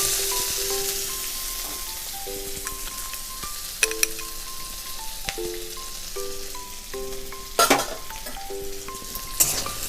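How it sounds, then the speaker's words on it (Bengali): Chicken with black pepper sizzles steadily in a frying pan while a spatula stirs it in bursts, with clinks of utensil against the pan throughout and no voices. "আমি আবার এটাকে নাড়িয়ে চাড়িয়ে নেব"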